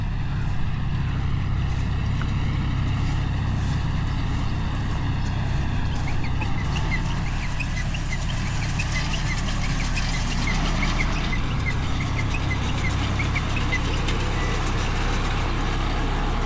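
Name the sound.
rice straw baling machine rolling straw into bundles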